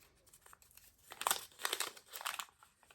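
A piece of paper is unfolded, giving soft crinkling and rustling that builds in a few faint bursts over a few seconds, with no voices.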